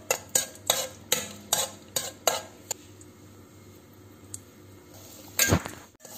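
Raisins frying in ghee as an Onam special is prepared, a spoon clinking and scraping against the pan in a quick run of strokes over a faint sizzle, then a final louder clatter.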